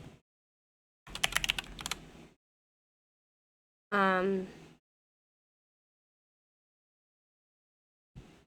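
Brief bursts of clattering keystrokes on a computer keyboard come close by between silent gaps, one short run near the start and another later, with a short stretch of speech between them.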